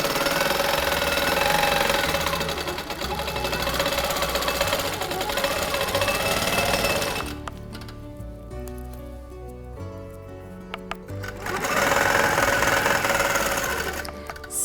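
Sewing machine stitching a quilt circle around a template, with a steady fast mechanical chatter that drops for a few seconds and then resumes, close and alone.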